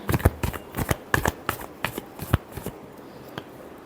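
A deck of tarot cards being shuffled by hand, a quick run of crisp riffling flicks and slaps close to the microphone, tapering into sparser taps toward the end, with no talking.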